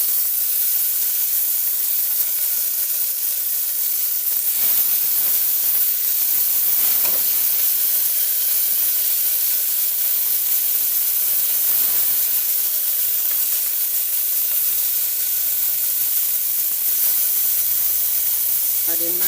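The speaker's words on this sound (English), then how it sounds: "Now I'm gonna add my beef in the pot." Beef dropped into a pot with a little oil gives a steady, broad sizzling hiss that holds evenly throughout at moderate loudness, with faint low kitchen sounds underneath.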